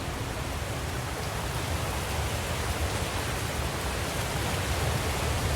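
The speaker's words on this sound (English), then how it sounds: "I love the sound of the waterfall." A waterfall in a Hitman video game gives a steady, dense rush of broadband noise. It holds an even level for the whole stretch, with no voices over it.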